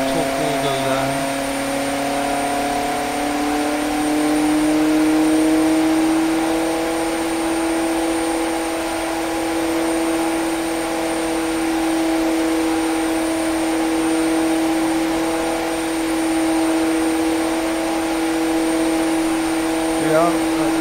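A 1,500-horsepower showcase engine revs up very slowly on a stand, a steady loud drone whose tone climbs gradually and holds stable throughout, with a constant high whine above it.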